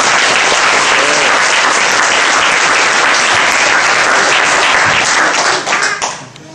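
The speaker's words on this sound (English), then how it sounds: "Give him a round of applause." A full audience round of applause at a Hare Krishna festival gathering in Liverpool, a dense, loud wash of clapping that holds steady and then tapers off at the end.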